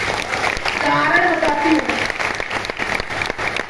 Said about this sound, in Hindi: फ्रेंड्स तालियां बजती हैं इस लाइन पे